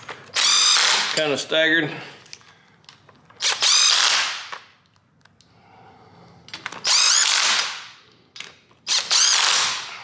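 Power tool running down the bolts on a Nissan 350Z rear differential cover, a NISMO cover, in short loud bursts with pauses between, each a few seconds long, while a person talks briefly.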